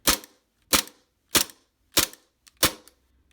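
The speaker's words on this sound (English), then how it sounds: "So let's do some dry fire." KJW KP-17 airsoft pistol dry firing with a WE Tech magazine, five sharp, close, crisp snaps at an even pace with a faint click before the last, no voices.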